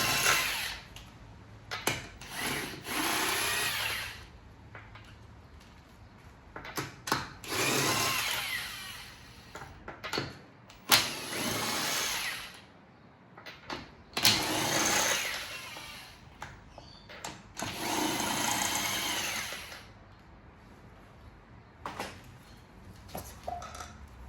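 A cordless power driver fitted with a socket spins the wheel bolts off a BMW iX1, in several loud whirring bursts separated by short pauses and clinks of handling, with no talk.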